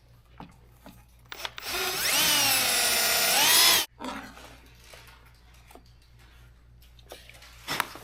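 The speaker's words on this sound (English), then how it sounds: "We need to drill a bigger hole here to put the wire through" A power drill bores a hole through a Toyota truck's dash panel in one close, loud burst of about two seconds, its whine shifting in pitch as it cuts, with quiet handling and rustling noises before and after.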